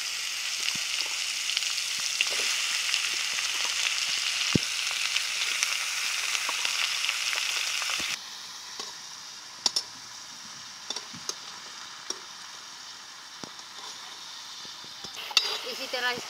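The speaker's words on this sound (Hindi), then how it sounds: "अब इसमें डाल दे रहे हैं कद्दू की सब्जी।" Pumpkin curry sizzling and frying loudly in a hot chili tempering for about eight seconds, then settling into a quieter crackle with occasional sharp pops and spatula clicks.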